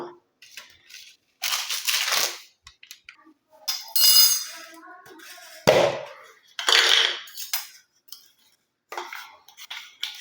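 A mixer grinder pulses fenugreek seeds with herbs such as curry leaves, henna and black cumin for hair oil, producing short, gritty bursts of rattling and crushing separated by brief silences.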